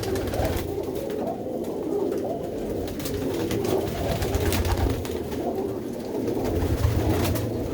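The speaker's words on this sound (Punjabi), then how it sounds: "ਕਬੂਤਰੀਆਂ ਗੁੜਕਦੀਆਂ ਵੈਸੇ ਗੁੜਕਦੀਆਂ ਹੈ ਜੀ ਇਹ" Bearded female pigeons at a loft coo continuously, many birds overlapping into a dense, steady burble with constant background rustle.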